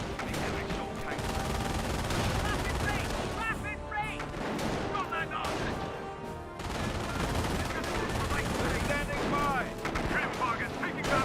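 Dense gunfire and explosions from a World War II battle in the strategy game Company of Heroes crackle continuously at a steady, busy level, with a voice talking over the din.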